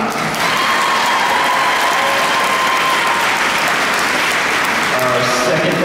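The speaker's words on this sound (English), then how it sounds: "Everyone clap." A convention masquerade crowd claps loudly and steadily for a judge coming on stage, dense continuous applause with some cheering filling nearly six seconds, faint tones and voices underneath.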